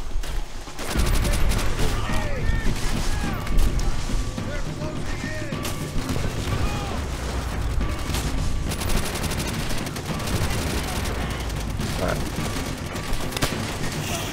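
Heavy, continuous gunfire from the World War II shooter Call of Duty: World at War, dense bursts and booms layered over one another at high volume, with voices mixed in.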